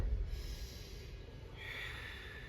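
A slow, deep inhale through the nose during a yoga breathing exercise, soft and close. The breath draws in steadily, with a faint snorting edge at the start.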